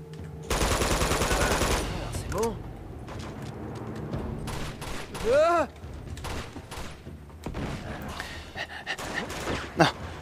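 Gunfire in Uncharted 2: a dense burst of rapid automatic fire up front, followed by scattered single shots and ricochet-like whizzes, with someone talking excitedly in between.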